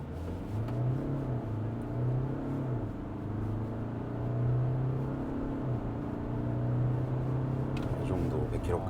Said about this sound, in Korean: 스포츠 모드로 변경을 한 다음에 풀악셀.